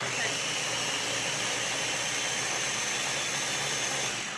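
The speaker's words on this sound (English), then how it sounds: "this is the motor that's sitting on top. And I am going to do a grind here" A food processor motor grinds pesto with a steady, close, high-pitched whir that holds evenly throughout, and a voice may be heard faintly beneath it.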